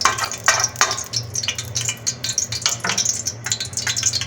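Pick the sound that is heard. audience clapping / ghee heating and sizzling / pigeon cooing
ghee heating and sizzling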